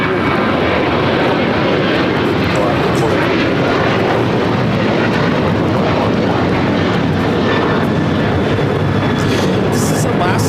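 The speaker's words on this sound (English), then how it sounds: "This is Alaska Airlines 1418 taking off to Guadalajara on the 737-900ER" An Alaska Airlines Boeing 737-900ER takes off at LAX with a loud, sustained jet roar that stays strong for the whole stretch. Some talk can be heard under the engine noise.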